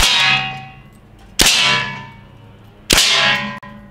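Two sharp metallic clangs about 1.5 seconds apart as rubber balls from an Umarex TR50L hit a target, each ringing briefly before fading, loud and close against quiet background.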